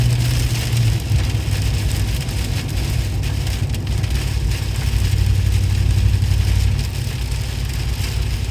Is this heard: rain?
yes